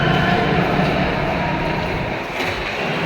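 A subway train rumbles along, with a loud, steady low roar of rail noise close by that eases slightly toward the end.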